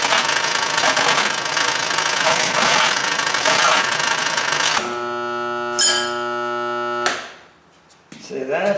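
A small jaw crusher with its jaws set to about a half-inch gap crushing ore from a gold mine, loud grinding and rattling over a motor drone that drops to a steady hum, then winds down and stops before starting up again.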